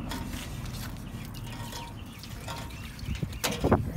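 Water is drained out of a container beside a backyard barbecue, giving a close trickling and dripping sound with a low rumble, and a burst of splashing toward the end.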